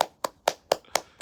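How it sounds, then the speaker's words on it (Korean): Six crisp, evenly spaced hand claps ring out close by as a student Buddhist club wraps up its recruitment event. Each clap is short, with quiet gaps between them. "박수!"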